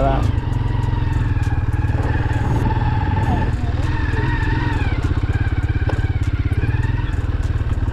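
A motorcycle rides along a rough, potholed road through an old railway-era neighborhood, its engine a loud steady drone close up, with rattles and clatter from the bumps, and someone talks over it.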